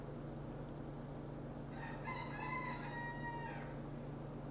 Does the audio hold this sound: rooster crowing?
yes